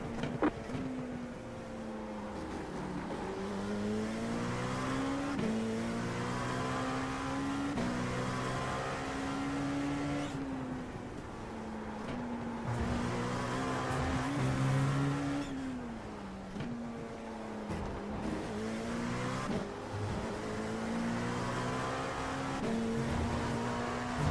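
LMP2 prototype race car at Virginia International Raceway, engine held near full throttle with a steady high-revving drone that rises and falls through gear changes, continuous and close from the cockpit.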